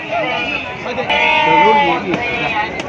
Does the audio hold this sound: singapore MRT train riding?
no